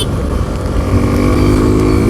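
Suzuki V-Strom 250 motorcycle engine held at full throttle, a loud, steady droning roar that climbs slightly in pitch through the whole stretch with no pauses.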